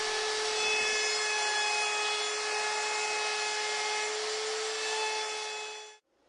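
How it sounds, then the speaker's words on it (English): Router fitted with a 1/4 inch round-over bit shaping the edges of a wooden tabletop: a loud, steady high-pitched whine held for about six seconds, then cutting off abruptly. "I round the top and bottom edges of the tabletop with a 1/4 inch round over router bit"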